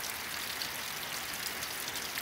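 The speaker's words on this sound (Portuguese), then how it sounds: "E depois de meio-dia, na parte da tarde, começou a chover mais." Steady rain falls on an afternoon, a dense even hiss of drops on surfaces, fairly quiet and continuous with no voices.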